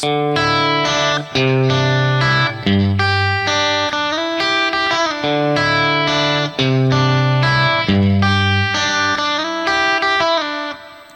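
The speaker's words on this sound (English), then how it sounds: "I like to play a guitar part that's based on what the acoustic guitar does in the song" An electric guitar strums and picks ringing open chords from a song in a steady rhythmic pattern, clean and bright, changing chords every second or so, with no talking.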